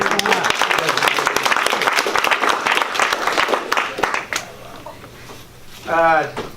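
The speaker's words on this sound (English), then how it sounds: "Another round of applause for Susan." An audience at a school employees' appreciation ceremony claps for an honoree, the applause fairly loud and steady for about four seconds and then fading, followed by a short spoken voice near the end.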